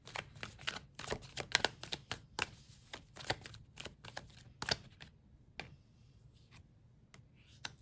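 Tarot cards being shuffled and laid out, a rapid run of crisp riffling flicks and snaps that thin out into a few sparse card taps near the end, close and fairly quiet, with no talking.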